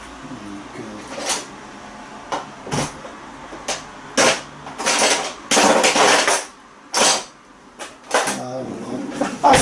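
Metal spoons clatter and clink as they are pulled out and handled in a kitchen, a series of short, sharp bright knocks and jangles in separate bursts, close by, with brief pauses between.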